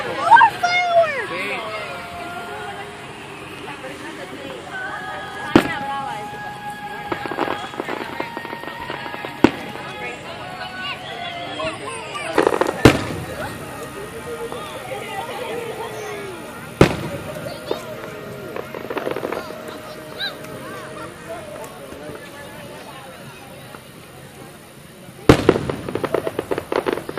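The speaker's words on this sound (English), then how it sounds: "Mira, more fireworks!" July 4 fireworks bursting in the open air, with sharp loud bangs at irregular intervals over a crackling background while children and adults chatter and call out nearby.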